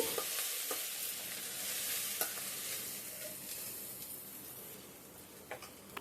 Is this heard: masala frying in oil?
yes